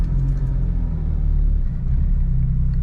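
Suzuki Jimny with automatic transmission idling just after starting, a steady close low engine rumble heard from inside the cabin.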